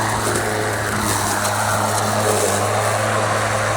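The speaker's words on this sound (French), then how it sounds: "tu es en train de tondre." A MOWRATOR S1 4WD radio-controlled 3-in-1 lawn mower cuts grass outdoors near an edge, producing a steady, loud motor and blade drone with a constant low hum throughout, alone without talk.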